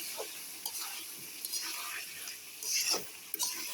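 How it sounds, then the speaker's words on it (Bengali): Meat frying in a home kitchen pan, with a soft steady sizzle and a few scraping stirs of a spoon through the pieces, quiet and close. "আমি নাড়া দিয়ে নেব।"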